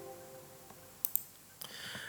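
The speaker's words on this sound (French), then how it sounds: "je clique sur OK" Two quick computer mouse clicks on an OK button in a spreadsheet program, faint and close, followed by a soft rustle, with no talk.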